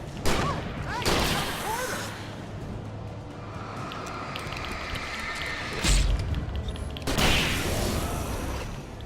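Shotgun blasts in Alan Wake Remastered, four heavy booming shots spaced unevenly over low rumbling game ambience.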